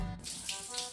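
Weak, thin spray of water from a small handheld bidet shower sprayer, a steady hissing flow heard up close for about a second with no talking.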